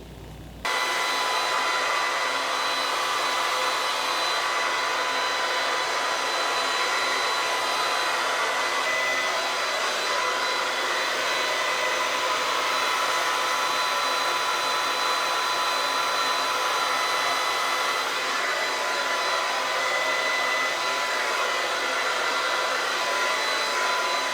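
A hair dryer blowing curly hair on its lowest setting, with no heat, switches on after a short moment, then keeps up a loud, steady airflow roar for over twenty seconds without a break.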